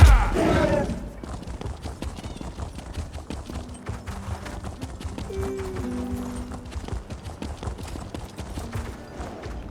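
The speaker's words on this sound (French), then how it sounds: "Les chevaux." Horses' hooves clip-clop in The Elder Scrolls Online, a fast irregular patter of clopping over ambient game sound, with a brief tonal call and faint background voices.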